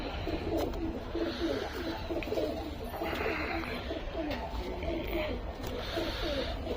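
Madrasi pigeons coo in a low, steady murmur that runs on without a break, with other birds calling behind it and a voice faint in the background.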